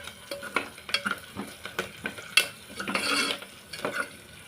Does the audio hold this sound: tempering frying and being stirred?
yes